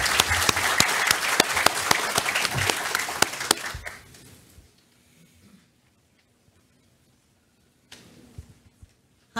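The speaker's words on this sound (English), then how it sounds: "can we have a round of applause for our panelists?" An audience at a community forum on seniors' issues applauds the panelists with loud, dense clapping for about four seconds, then it fades out into near silence, followed by a brief burst of faint noise.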